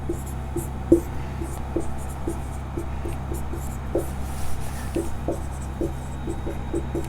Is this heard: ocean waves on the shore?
no